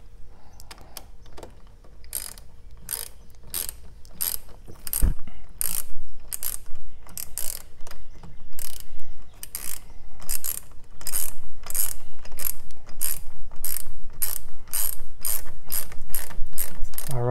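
A ratchet tightens the battery hold-down in a 2017 Toyota RAV4, giving close, loud bursts of rapid clicking. The bursts repeat in a steady back-and-forth rhythm with brief pauses.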